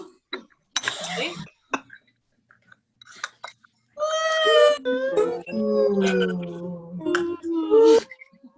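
A group of women at a networking meeting imitate a she-wolf howl with rising, wavering 'ooh' calls, loud and sustained, after a few scattered short vocal bursts.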